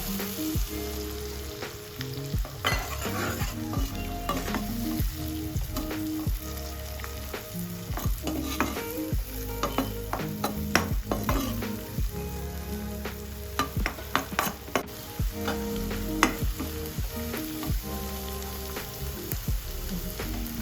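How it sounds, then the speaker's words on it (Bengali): Egg and onion shoots fry together in a pan over a medium gas flame, giving a dense, continuous close sizzle with scattered clicks and scrapes from stirring throughout. "এখন আমি ডিমটা দিয়ে দিব।"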